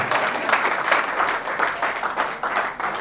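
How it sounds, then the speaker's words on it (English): Steady audience applause fills a real estate seminar room, a thick, continuous patter of many hands clapping at even loudness with no talking. "Please clap well."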